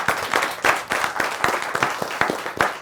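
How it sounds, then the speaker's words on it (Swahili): A room of listeners claps for volunteers at a talk on dressing mistakes, a close, lively patter of several people's hands with distinct sharp claps and slight swells in loudness. "Wapi makofi ya volunteers wetu?"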